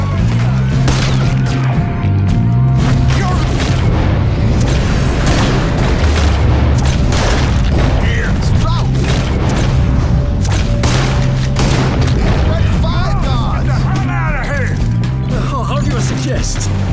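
Gunfire and heavy booms in Red Dead Redemption 2, dense repeated blasts and clatter throughout, loud and close, mixed with game voices talking.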